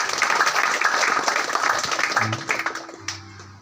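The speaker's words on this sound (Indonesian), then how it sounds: "tepuk tangan bagi nama Tuhan" Audience applause at a church thanksgiving gathering for a women's football win, steady clapping from a crowd that tapers off toward the end, with a little talk mixed in.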